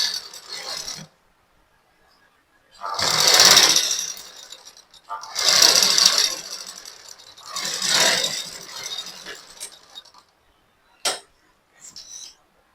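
A sewing machine stitches a blouse sleeve in three short bursts of rapid mechanical chatter, close and clear, separated by pauses with a couple of small clicks afterward.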